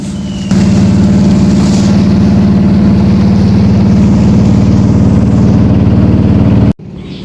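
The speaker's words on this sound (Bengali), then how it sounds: "আর সাথে চলছে দুটি যাত্রীবাহী কিংবা মালবাহী ট্রলার" A river trawler's engine chugs steadily and loudly at close range, a constant low throbbing drone that cuts off abruptly near the end.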